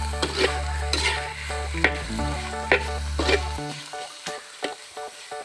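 Spicy eel stir-frying in a pan: steady loud sizzling with a spatula scraping and stirring in rhythmic strokes, and a low steady hum that cuts out partway through, close up and without talking.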